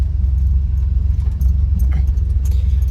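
Mercedes W114 with a boosted fuel-injected M103 engine running, a deep steady low rumble close by with faint rattles on top and no talk.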